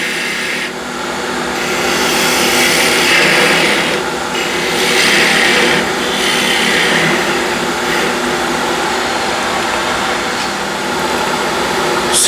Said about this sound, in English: Skew gouge.